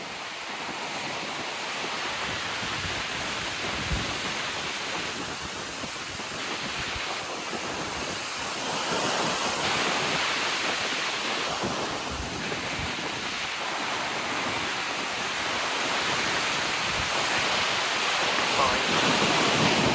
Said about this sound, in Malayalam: ഇപ്പോൾ ഇവിടുത്തെ കടൽ ഇത്തിരി റഫായിട്ടുണ്ട്, നല്ല കാറ്റും അടിക്കുന്നുണ്ട്